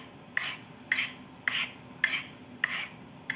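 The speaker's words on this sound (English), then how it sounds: "I'll just hone maybe take the burr off with the crock sticks" A knife edge honed on ceramic crock sticks to take off the burr: six evenly spaced, bright rasping strokes about half a second apart, close and clear over a quiet background.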